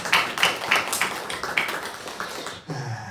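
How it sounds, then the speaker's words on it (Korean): A church congregation claps together during a Palm Sunday service, a burst of rhythmic applause that fades after a few seconds into quieter room sound. "주님께 찬양 박수를 올려드리겠습니다"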